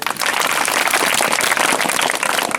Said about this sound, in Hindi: तो सर लोग के लिए एक बार पहले तालियां।